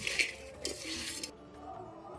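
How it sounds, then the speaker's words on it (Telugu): Mushroom pieces being mixed by hand with salt, coriander powder and turmeric in a kitchen bowl, giving soft, faint scraping and stirring strokes for a couple of seconds before going quiet. "ఇవి మొత్తం ముక్కలకు పట్టేలాగా బాగా కలుపుకోవాలండి"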